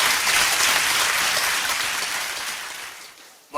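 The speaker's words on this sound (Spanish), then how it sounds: "Un aplauso para Álvaro Hernández Nieto" Applause at a Spanish institutional ceremony for a bodybuilding and fitness championship in Extremadura, a dense crowd clapping loudly and steadily for about three seconds before it fades out and a voice starts.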